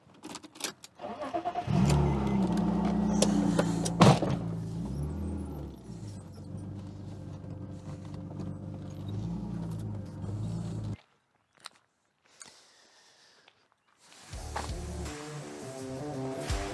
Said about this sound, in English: that car is now ready for collection, so I am going to put it back where I found it